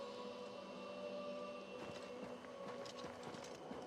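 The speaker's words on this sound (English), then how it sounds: "And there's a legionary's horse." In the video game Oblivion Remastered, a legionary's horse clip-clops with faint, irregular hoof beats over a quiet droning ambience.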